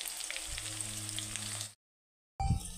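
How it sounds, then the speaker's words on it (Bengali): Whole cumin, cardamom pods and cinnamon sticks sizzle in hot oil with dried red chillies, a steady close frying hiss that cuts out briefly, then returns with a low thump from the pan. "তো এটাতে আমি 3টে এলাচ 2টা দারচিনি দিয়ে দিলাম,"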